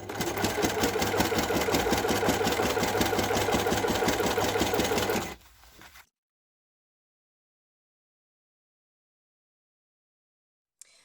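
A sewing machine stitches the second piece of a fabric pouch, running loud and steady with a fast rhythmic whir for about five seconds before stopping into near silence.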